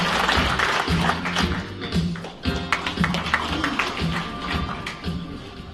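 An audience at a police veterans' association anniversary ceremony in a concert hall claps steadily to welcome a speaker, a dense, sustained applause with an announcer's voice over it.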